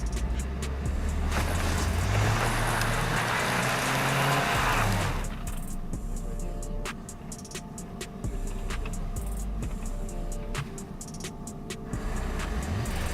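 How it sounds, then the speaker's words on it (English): An SUV's loaded wheels spin in place in snow on a climb, a loud roaring engine and whirring tires for the first five seconds, then a quieter idle with clicks and knocks. "The snow causes the loaded wheels to spin in the same place and the vehicle does not move forward."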